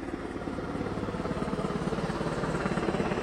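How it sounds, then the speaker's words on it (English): A helicopter flies overhead, its rotor beating in a steady, rapid pulsing chop over a constant engine drone that grows slightly louder toward the end. "You see that helicopter right over us right now."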